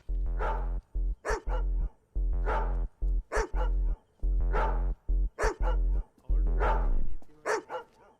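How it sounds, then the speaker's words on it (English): Dogs bark repeatedly in short bursts, several barks in quick succession followed by pauses, loud and close, with yips mixed in. "It's a weird pattern of dogs barking."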